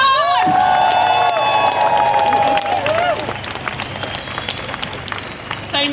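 A crowd at a clean water protest march in London claps and cheers loudly, with rising whoops and shouts over the start, then settles into sustained close applause mixed with scattered voices.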